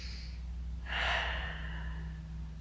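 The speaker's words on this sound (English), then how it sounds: "And have one last big breath here" One deep breath during a Pilates hip flexor stretch, a soft breathy exhale swelling briefly and fading, close and alone over a low steady hum.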